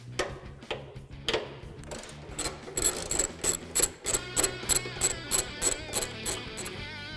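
A hand ratchet loosens 8mm fender bolts on a Ford F-150, first with scattered clicks and then a fast, regular run of sharp ratcheting bursts close by.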